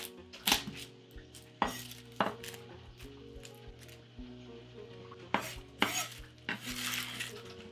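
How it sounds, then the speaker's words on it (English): Garlic cloves roughly chopped with a knife on a cutting board, a handful of sharp irregular knocks with quiet gaps and light utensil clatter between, close and fairly soft. "Roughly chop the garlic."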